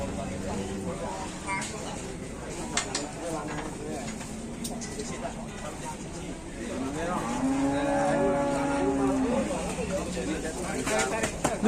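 Cattle lowing amid livestock, with a long drawn moo rising clearly around the middle, while people talk over a steady background murmur.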